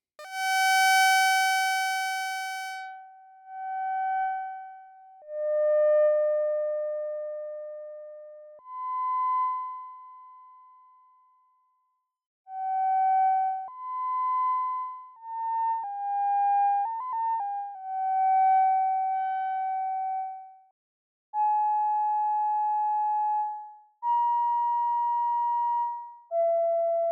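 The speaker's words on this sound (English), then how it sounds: "there's one more character category of sound that I really like, and that's the one that I was noodling on for my prelude to this first video, and that's flute sounds." Soft, flute-like tones from a Mavis synthesizer with a touch of pulse width, playing a slow, noodling melody of sustained pure notes with brief gaps and a few quick ornaments, clear and alone without voices.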